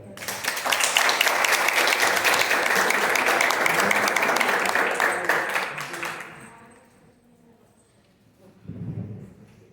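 A seminar audience gives loud, sustained applause to welcome a speaker, dense clapping for about six seconds before fading out, followed by a brief low rustle.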